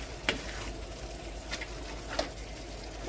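Mutton curry being stirred in a pan after coriander leaves go in, a quiet low simmer with a few soft scraping knocks of the spoon, no voices.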